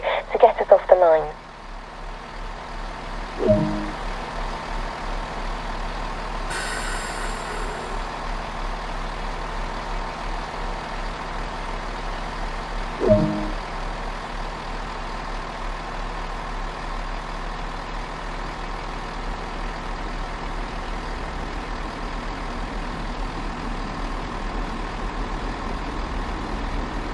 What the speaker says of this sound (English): set the reverser to forward and apply a small amount of power using the combined throttle brake to get us off the line